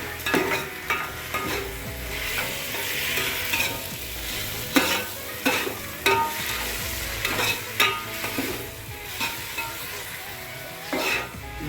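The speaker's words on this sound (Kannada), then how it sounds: "ಟೊಮಾಟೊ ಈರುಳ್ಳಿ ಎರಡೂ ಚೆಂದಾಗಿ ರೋಸ್ಟ್ ಹಾಕಬೇಕು" Tomato and onion roasting in a pan, with a steady sizzle under repeated scraping and stirring strokes from a utensil against the pan, close up and fairly loud, with no talking.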